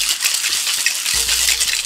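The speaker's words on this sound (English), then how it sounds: "Grab our big shaking tin, give it a nice little whack, and give it a whip shake" Pebble ice shaken hard in a big metal cocktail tin for a non-alcoholic tiki drink, a dense continuous rattling and crunching, loud and close throughout.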